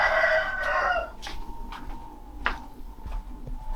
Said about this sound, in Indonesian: di atas itu dimanfaatkan untuk kandang ayam, kandang ternak